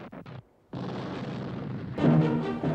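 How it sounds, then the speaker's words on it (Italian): Artillery cannon fire from a Battle of Waterloo reenactment, with a burst of booms, a brief silence, then a sustained rumbling barrage that swells louder near the end. "L'artiglieria, dopo essere stata portata in posizione, continua il suo cannoneggiamento."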